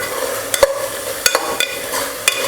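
Tomato puree being sautéed in a pan for channa rice, with soft frying hiss under scattered sharp scraping clicks from stirring, close and fairly loud with no talk.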